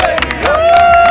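Slovenian football fans make noise near the stadium outside Johannesburg, with a brief crowd burst of cheering and clapping overlapped by a steady whistle or horn tone, close and loud.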